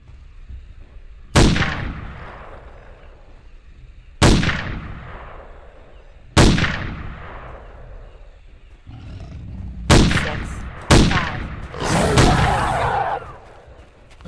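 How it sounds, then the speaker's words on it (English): Barrett .50 cal rifle shots in the Jurassic Park: Trespasser video game: five heavy booming reports with long rumbling decays, spaced a few seconds apart, the last two close together and followed by a roaring tail. "This is a Barrett 50 cal."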